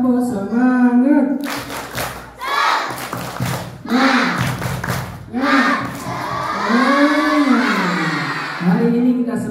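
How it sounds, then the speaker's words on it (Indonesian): Children at a school Maulid Nabi celebration shout and clap together in a rhythmic spirit cheer, loud and close, with chanted call-and-response voices and bursts of unified claps. "Tepuk semangat."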